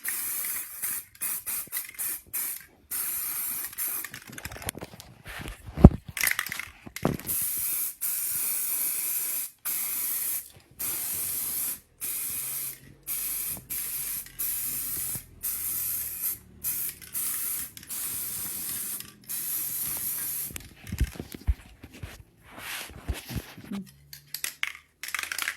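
An aerosol can sprays primer in repeated short hissing bursts, each a few seconds long with brief pauses between, close and fairly loud, with occasional clicks and rattles.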